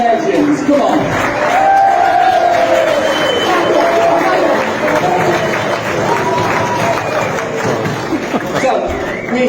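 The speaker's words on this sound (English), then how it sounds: "A round of applause for Eddie and Martin." A large crowd applauds and cheers loudly for BMX riders Eddie Fiola and Martin Aparijo at a 2019 show in Cleethorpes, with sustained dense clapping, whoops and chatter throughout.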